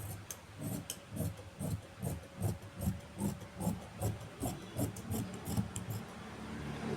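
Churidar lining fabric is cut with scissors in a steady run of soft, rhythmic snips and rubbing strokes, close and fairly quiet, repeating about every half second.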